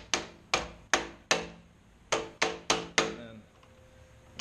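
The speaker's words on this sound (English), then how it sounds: "the best way to put this back in is with a wrench and a hammer, because you get it started with a hammer" A hammer taps a swivel caster wheel into the leg of a homemade PVC cart, eight sharp, evenly spaced knocks in two groups of four, close and clear with no talking.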